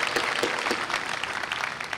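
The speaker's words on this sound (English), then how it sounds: "Let's give a round of applause anyway, if we would" Graduation ceremony crowd applauding steadily, a dense wash of many hands clapping close and loud throughout with no pause.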